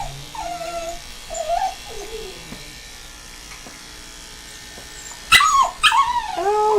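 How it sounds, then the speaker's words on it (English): A small dog growls and whimpers during grooming, giving short whiny yips and whines in bursts separated by pauses, with an electric clipper buzzing faintly and a person talking. "Oh, Penny's growling at you."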